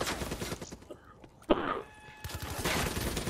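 Gunfire in the video game Black Ops 3, a rapid burst of shots at the start followed by one sharp loud shot midway and a further burst of fire at the end.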